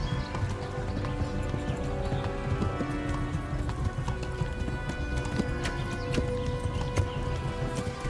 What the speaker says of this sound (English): Corre, caballo.